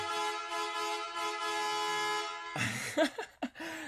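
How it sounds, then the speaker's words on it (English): Truck horn sound effect blaring as one long, loud sustained blast for over two seconds, followed by a spoken voice. "That is the best horn noise."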